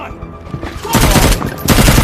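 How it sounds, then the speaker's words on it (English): Gunfire in a war movie: after a quieter stretch of scattered shots, heavy bursts of rapid automatic fire break out loud and dense, briefly pausing before another volley. "Riley saved Mike's life by shooting the troops."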